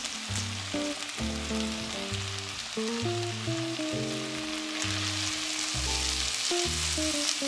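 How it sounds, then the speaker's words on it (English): Rice toasting in a pot gives a loud, steady sizzle. Background music with shifting chords plays over it, and no one speaks. "that's the sound you want to hear when your rice is toasting"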